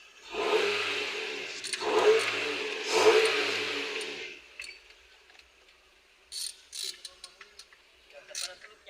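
A turbocharged Ford Everest diesel engine, misfiring and smoking, revs hard in three rising bursts with a whooshing, rattling roar, then drops away to quieter idle clatter and scattered clicks.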